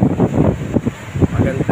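Wind gusts across Bato Beach as a storm weakens, a loud, blustery rumble buffeting the microphone with low surging noise, and a voice speaks faintly beneath it.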